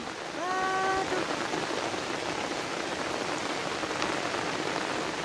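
Steady rain pours down in a dense, continuous hiss, with a brief faint tonal call near the start and no talking.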